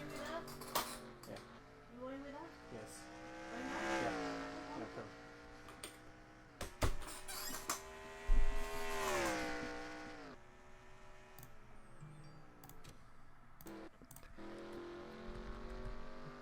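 Race cars lapping a track at Watkins Glen in a racing video game, engines whining and shifting pitch as they accelerate and pass, heard continuously under a commentator's voice.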